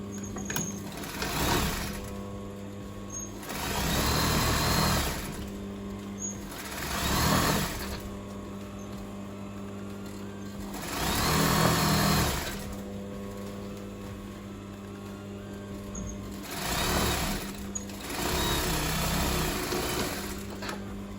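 Sewing machine stitching both sides of a gathered dress in white thread, running in a series of short, even bursts separated by brief pauses across the stretch, close and fairly loud.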